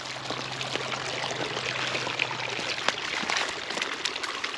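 A police K9 dog runs through water outdoors, making a steady rushing and splashing wash with small scattered splashes throughout, fairly close and with no talking.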